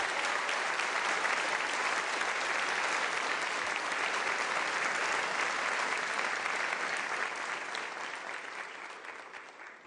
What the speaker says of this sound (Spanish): Pido un aplauso también para los diputados y diputadas del Cuerpo de la Patria que aquí están firmes en defensa de la patria venezolana